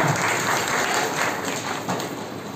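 Applause from an audience at a community haldi-kumkum gathering honouring a schoolgirl, steady dense clapping that fills the whole stretch at moderate, even loudness.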